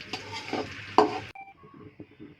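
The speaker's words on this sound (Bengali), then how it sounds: "একটি কড়াইয়ের মধ্যে আমি কিছুটা তেল দিয়ে এখন পেঁয়াজ দিয়ে সুন্দর করে এটাকে ভেজে নেব।" Onions frying in oil in a kadai, a close, busy sizzle broken by scraping stir strokes for about a second, then cutting to a much quieter stretch of faint clinks and low crackle.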